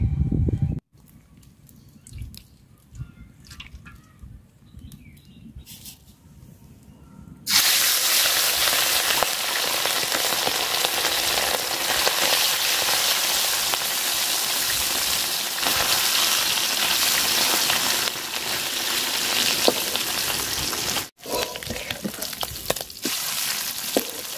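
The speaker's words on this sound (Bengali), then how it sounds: "মাছ ভাজা নিছি, কড়া করে তুলে নিলাম।" Loud frying sizzle of small hilsa fish erupts and crackles steadily in hot oil after a quieter opening, continuing close by with a brief dip near the end.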